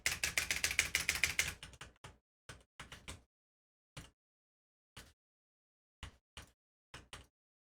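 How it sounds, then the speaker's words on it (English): Clicky keystrokes on a Ducky One 2 mechanical keyboard: a rapid burst of fast typing, then scattered single and paired key presses with silent gaps between them, close and crisp. "It's not a gaming keyboard, it's a mechanical keyboard. It's a Ducky 1-2."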